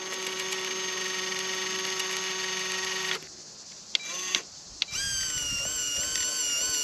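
An RC crawler's winch motor whines steadily as it pulls cable against the drag brake, then a short pause with clicks before a higher, wavering motor whine resumes, close and loud with no talk.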